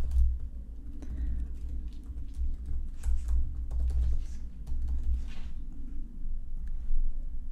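Someone types an email address on a computer keyboard, soft scattered key clicks close by over a low steady hum, without speech.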